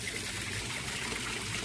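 Water pours and splashes steadily into a backyard concrete tilapia pond during a water change, a continuous close gushing trickle.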